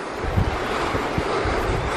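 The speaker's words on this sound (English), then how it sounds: "Oh, this river's amazing." A mountain river rushes past in steady, broadband roar, close and constant, with wind buffeting the microphone, and nobody talks over the brief stretch.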